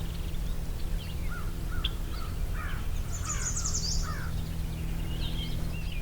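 American crows caw in a swamp, several faint, scattered calls at a distance over steady low background noise.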